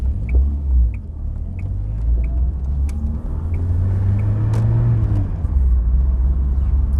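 A Volvo 480 driving along, its engine a steady low rumble with road noise throughout, swelling slightly as it pulls, close and continuous with no talk.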